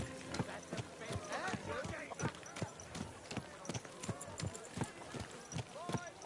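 Horse hooves clip-clop in a steady, rhythmic trot in Kingdom Come: Deliverance 2, with a voice speaking over the repeated hoofbeats.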